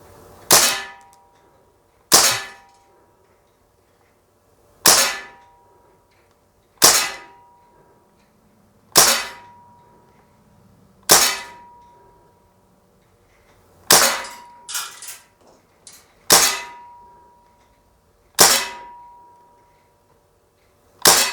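An Umarex Steel Strike CO2 blowback BB rifle fires in semi-auto at a target, about a dozen sharp cracks spaced roughly every two seconds, some followed by a metallic ring of the BB striking steel.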